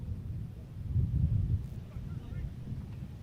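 Wind buffeting an outdoor microphone at a summer baseball game, low rumbling gusts that swell in the middle and then ease back, with a faint background of voices.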